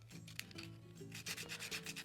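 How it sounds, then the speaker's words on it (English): Sandpaper of 120 grit rubbed over a small hand-carved wooden elf or gnome figure, giving a close run of scratchy strokes that grow busier and more rhythmic toward the end, with no talking. "A little bit of 120 sandpaper. Give him a little bit of sanding here."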